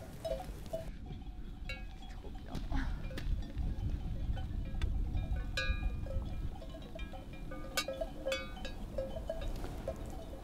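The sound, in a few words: flock of ewes grazing in a pasture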